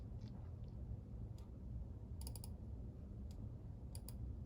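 A computer mouse gives a few faint, sharp clicks, including a quick double click, set against a quiet room hum.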